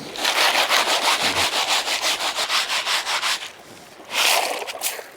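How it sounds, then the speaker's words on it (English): A hand tool scraping and grinding through hard-packed sand among boulders at a prospecting dig, repeated rough rasping strokes in a steady rhythm, close and fairly loud, pausing briefly before a final harsher scrape. "that's pretty hard digging"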